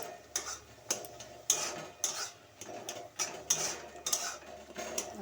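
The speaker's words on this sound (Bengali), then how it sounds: "একটু নাড়াচাড়া করে নেব এই শাকটা" Spinach greens with fried cumin being stirred in a pan, regular clinks and scrapes of a utensil against the metal roughly every half second, close and fairly quiet, with no talking.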